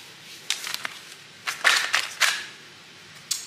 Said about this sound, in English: I had a card that flipped